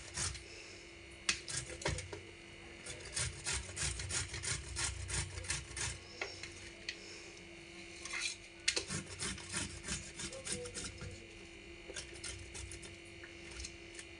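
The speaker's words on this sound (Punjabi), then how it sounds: "ਆਪਾਂ ਨੇ ਮੋਟੇ ਪਾਸੇ ਨਾਲ ਕੱਦੂਕਸ਼ ਕਰ ਲੈਣੀ।" Bottle gourd rubbed back and forth on the coarse side of a hand grater, a steady rhythmic rasping scrape with short breaks, close and moderately loud with no voices.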